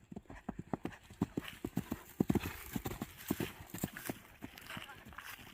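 Hooves of a horse beat a quick, regular clip-clop rhythm on a jumping course, close and crisp, with faint voices and a brief whinny in the background.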